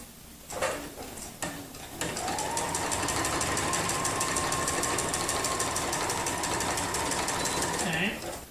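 Sewing machine stitching free-motion quilted interlocking curves, its fast steady needle chatter running continuously after a few brief starts, close and loud with quiet talk over it.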